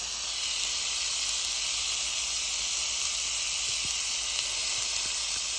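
Chopped onions and garlic sizzle steadily in a soup pot for an Italian white bean and veggie soup, a constant close, bright hiss with faint crackles and no talk.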